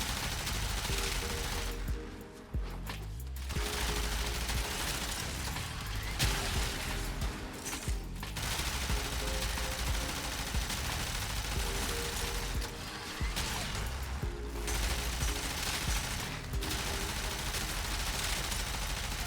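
Mausolon weapon firing in the Warframe video game, sustained dense mechanical gunfire in several long bursts with brief pauses between them, loud and continuous with clanking, ratcheting textures.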